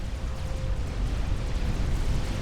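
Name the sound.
explosion in a real-time strategy video game (Forged Alliance)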